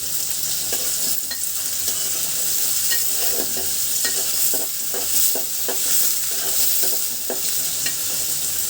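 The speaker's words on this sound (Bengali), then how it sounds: "এভাবে আস্তে আস্তে নাড়তে থাকবো, নিচে যেন লেগে না যায়" Onions fry in a pan under a loud, constant close-up sizzle while a spatula stirs them slowly, with soft repeated scrapes and taps spread through it and no voices.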